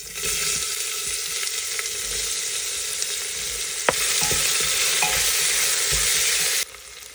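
Finely chopped onion with cumin and asafoetida frying in a pan for veg paneer pulao, a steady loud sizzle throughout with a few light clinks of stirring.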